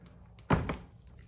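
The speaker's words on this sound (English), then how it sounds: "this door, this sliding door." A sliding door between connected hotel rooms gives a single solid thunk as it moves shut, followed by a softer knock, in an otherwise quiet room.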